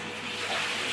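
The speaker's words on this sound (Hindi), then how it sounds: "पानी भर रहे हैं" Tap water runs into a bucket or container in a steady, hissing stream, close and moderately loud across the whole second, with no talk.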